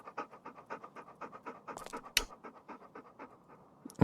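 A dog panting close by in quick, steady rhythmic breaths, with a brief sharp knock partway through, no talk.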